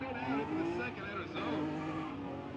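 A Nissan 370Z HR drift car with 250 wheel horsepower at a drift competition qualifying run, its engine wailing loudly at high revs with shifting pitch and tire noise, under continuous commentary.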